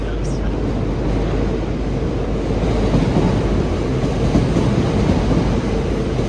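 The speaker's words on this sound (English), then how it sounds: "Hey, look, it's a train non-stop in York." A steady, loud rumbling roar holds throughout without letting up, as a train rushes past nearby in York without stopping.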